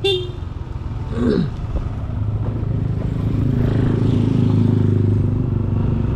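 A 2018 Yamaha NMAX first-generation scooter ridden slowly through a housing compound, its steady engine drone close and continuous, rising slightly in level as it rolls on, with a brief clatter early on and no talk.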